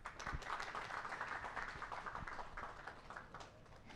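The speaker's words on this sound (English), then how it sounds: "Please give her a warm round of applause" An audience at a special seminar applauds a grantee accepting a certificate, steady moderate clapping from many hands throughout, somewhat distant and muffled.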